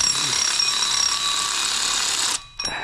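Power tool spinning out Torx 45 bolts during water pump and valve cover gasket work on a Dodge Dakota RT: a loud, steady high-pitched whine held for about two seconds, then cut off abruptly, with a brief faint blip after.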